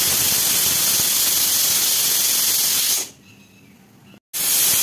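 A pressure cooker on low gas, cooking carrots for halwa, lets out a loud continuous steam hiss for about three seconds, then cuts off to near quiet.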